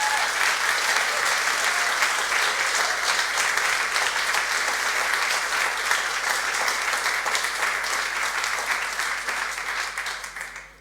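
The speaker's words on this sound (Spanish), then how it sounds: "Dale un aplauso al Señor por esa oración." A church congregation breaks into loud, sustained applause after a prayer, many hands clapping close and thick for about ten seconds before tapering off at the end.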